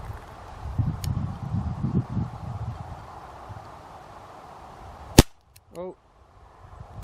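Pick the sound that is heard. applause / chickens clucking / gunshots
gunshots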